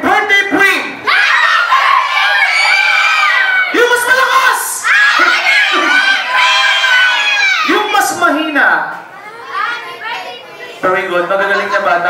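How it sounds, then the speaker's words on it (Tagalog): Kids at a tenth birthday party shout happy birthday together, a loud, near chorus of excited children's voices with squeals and laughter, while an adult's voice leads them. "Okay, kids, let's shout. Happy birthday, Prim."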